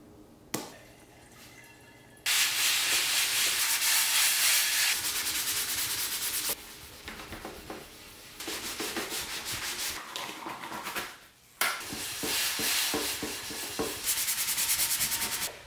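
A used All-Clad stainless steel skillet is scrubbed hard in bursts of loud close rubbing strokes, several long rhythmic passes separated by short pauses, with no talk.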